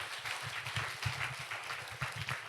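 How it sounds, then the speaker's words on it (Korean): A church congregation at a young adults' worship service claps in a quick, fairly rhythmic pattern, faint and somewhat distant, with no voices over it. "큰 박수로 맞이해 주세요."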